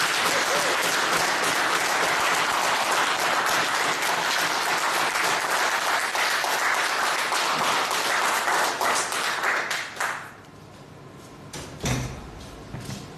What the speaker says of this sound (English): Please put your hands together to welcome Toastmaster George Thomas for an opening address.